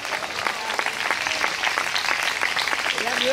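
A church congregation claps loudly and steadily through the whole stretch, a dense sustained round of applause with a faint voice rising briefly near the end.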